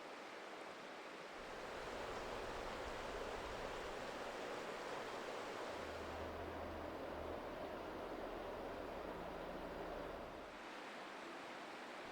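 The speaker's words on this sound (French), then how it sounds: "C'est une magnifique rivière à saumon." Steady rushing water of a salmon river in Gaspésie National Park fills the scene, a broad continuous roar that swells slightly in the middle and eases toward the end.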